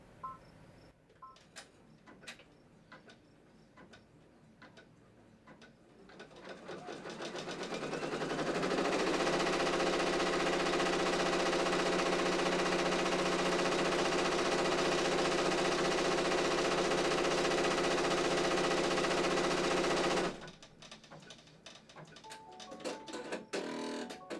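An embroidery machine stitches out a window on a floral zippered bag in the hoop. Scattered clicks and beeps come first, then a loud continuous whirring hum ramps up and runs steadily for about fourteen seconds before cutting off, followed by more light handling clicks.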